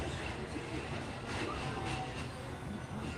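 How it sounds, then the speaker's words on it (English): Train passing at Magic Kingdom: a steady, fairly faint rumbling wash of wheels and carriage noise throughout, with light rhythmic clatter and no clear speech. "There goes our train."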